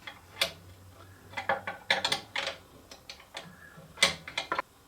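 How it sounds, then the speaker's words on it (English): Wrench clicking and ratcheting on the motor leveling bolt of a Rikon 30-212VS bandsaw, with a series of short, sharp metallic ticks in uneven bursts, close and fairly quiet with no talk. "you may want to take a wrench at this point and loosen it off"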